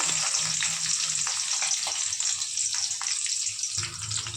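Seasoning drops into hot oil in a pan for a village-style fish curry, setting off a loud, dense, continuous sizzle with a few faint stirring clicks and no talking.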